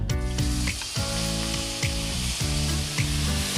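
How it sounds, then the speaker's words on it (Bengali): Spice masala for a vegetarian bottle-gourd curry fries in oil in a pan, a loud continuous sizzle marked by repeated rhythmic scrapes of a spatula stirring against the metal. "যে মশলাটা আমি ভালো করে কষে নেব"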